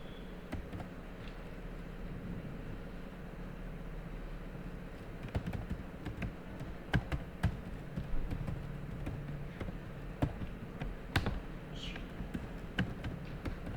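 Code being typed on a computer keyboard during a Python exception-handling lesson: a scattered run of light key taps, sparse at first and then quicker and clustered, over a steady low hum, with no talk.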